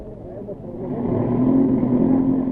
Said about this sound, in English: among the first away is the Renault Alpine of Frenchman Nicolas